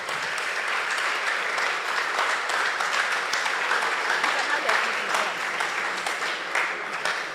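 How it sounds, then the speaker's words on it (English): Audience at a STEM festival mentorship session applauds in a steady, dense wash of clapping that holds at an even volume throughout. "Come on, give a round of applause."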